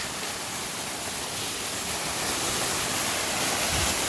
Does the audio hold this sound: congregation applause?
no